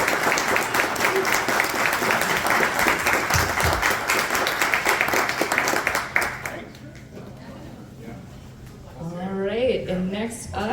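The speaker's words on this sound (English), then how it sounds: "Let's give them a big round of applause." A crowd at a food co-op talk applauds loudly for about six seconds, a thick continuous clapping that then fades, giving way to a speaker's voice in the quieter remainder.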